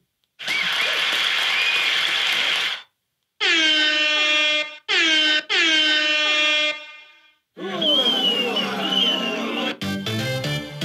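Loud DJ sound effects blast in quick succession from a JBL PartyBox 310 speaker: a horn-like air-horn blare, swooping siren-like tones and a final stuttering, stepped effect, each separated by short gaps.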